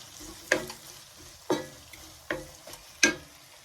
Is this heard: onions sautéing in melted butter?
yes